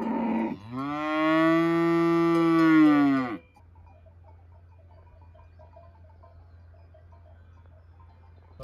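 A single cow in a shed lets out one long, loud, close moo lasting about three seconds, then the sound drops to a quiet, steady low hum with faint ticking.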